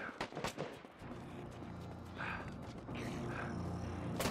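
Gunfire from enemies in Dead Rising 4, several sharp shots early then a denser burst of rapid shooting over a steady game backdrop, moderately loud and mixed with other game noise.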